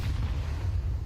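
A grenade detonates in Counter-Strike 2, a short, dense low boom that stays heavy and steady for about a second with no voices over it.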